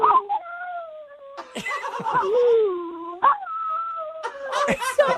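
A dog performing a trick yowls and whines in a rising, speech-like pattern, mimicking the phrase I love you, in several drawn-out bursts, with laughter and voices breaking in between.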